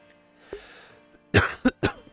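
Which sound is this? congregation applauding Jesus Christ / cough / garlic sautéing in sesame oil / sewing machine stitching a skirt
cough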